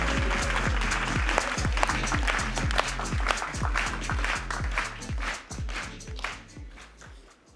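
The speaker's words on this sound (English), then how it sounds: "A round of applause." Conference audience applauding as the next speaker, a textile recycling company's founder, is introduced: a warm round of clapping with upbeat music beneath, gradually thinning and fading toward the end.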